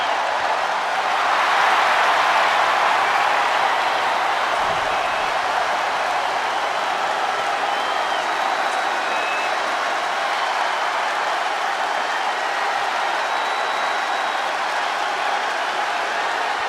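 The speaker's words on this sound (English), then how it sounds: "Crowd showing their appreciation for Trish." A SmackDown wrestling arena crowd applauds and cheers for the champion ahead of a main event title match, a loud, dense, steady roar of clapping and crowd noise that fills the whole stretch without pause.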